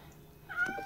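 A short, soft cat meow rises faintly over a quiet background, a single brief call heard close but low in level.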